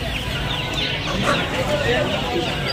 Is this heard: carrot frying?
no